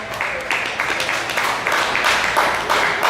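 Audience at a county fair clapping in a series of quick uneven bursts, hands patting in dense waves that rise and fall over a few seconds, fairly close and without talk.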